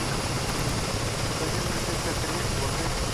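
A KA-50 Black Shark helicopter in Garry's Mod runs its engine with a loud, constant, dense whine and rotor roar that fills the short stretch without pause.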